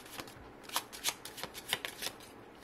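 A deck of tarot cards is shuffled up close, a quiet run of crisp riffling bursts in an irregular rhythm.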